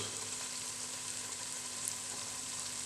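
Onions and spices sizzle steadily in hot oil in a pan for an egg curry, a continuous close frying hiss with faint stirring scrapes and no voices.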